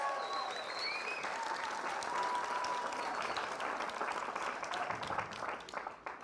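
Sustained audience applause at a morning creative talk event, steady dense clapping from a room full of people, fairly even throughout and tapering slightly near the end.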